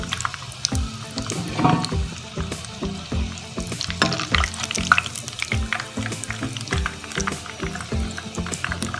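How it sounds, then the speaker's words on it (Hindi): Aloo tikki patties frying in moderately hot oil, with a steady crackling sizzle and repeated close clinks and scrapes of a utensil in the pan throughout. "इसी तरह बाकी भी फ्राई कर लेते हैं।"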